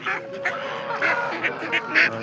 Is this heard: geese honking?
yes